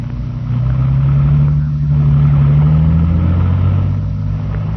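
A car engine hums steadily and pulls away, a low continuous motor rumble that swells slightly as it drives off, with no voices over it.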